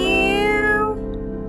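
A single injured kitten gives a clear, drawn-out meow, loud and close, its tone falling away toward the end, with nothing else heard.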